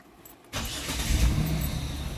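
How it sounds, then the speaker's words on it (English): A 2007 Dodge Nitro with a rich-running fault cranks and fires, settling at once into a steady, close idle rumble after a short quiet lead-in, with no talk. "let's go ahead and start it up"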